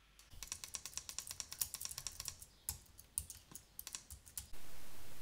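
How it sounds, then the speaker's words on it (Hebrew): Rapid computer keyboard typing clatters in quick irregular bursts with a few sharper mouse clicks, picked up close by a headset's built-in microphone, then cuts to a steady hiss. "זוהי בדיקה של רעשי הרקע במיקרופון המובנה באוזניות שלי כגון מקלדת ועכבר"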